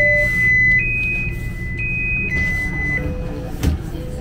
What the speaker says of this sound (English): The door announced a loud beep when they're available to open